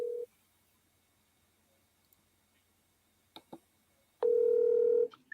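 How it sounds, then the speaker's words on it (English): A telephone dials out on a call to a sports radio host: a short tone at the start, a couple of faint clicks near the middle, then a loud steady dial tone held for almost a second near the end, with no talking. "So let me get Dave on the phone here"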